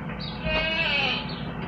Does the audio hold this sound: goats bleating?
yes